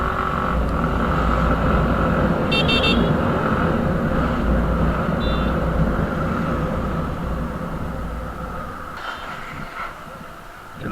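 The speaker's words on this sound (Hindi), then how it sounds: "अरे देखो ट्रैफिक, इतना ट्रैफिक क्यों होता है रे बाबा" Steady street traffic on a busy Sunday in Assam, with a continuous low rumble of engines and passing vehicles and a few brief higher-pitched horn-like bursts, loud and constant throughout with no talk.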